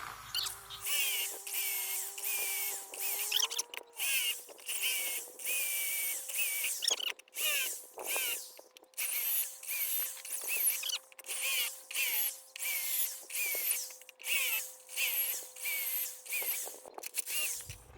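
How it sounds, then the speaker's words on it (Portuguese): A drill bores six holes through an iron plate with the help of oil, a whining, grinding tone that repeats in short pulsing cycles and pauses briefly between holes, heard close and alone. "Vou furar os 6 furos aqui de uma maneira bem rápida."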